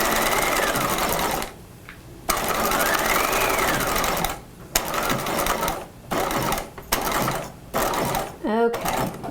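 A sewing machine stitches a dart line in fabric, a loud, rapid mechanical whirr running in stretches that stop and restart several times, with brief quiet gaps and a faint voice between runs.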